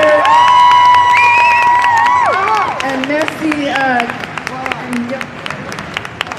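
Loud crowd at a Paris Manga convention panel for Buffy guests applauds and cheers amid whoops and shouts, with a steady roar that fades gradually as a voice briefly speaks over it.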